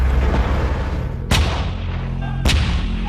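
An Archer self-propelled artillery gun fires two heavy, sharp booms about a second apart, each a loud close blast cutting through a constant low rumble of engine noise.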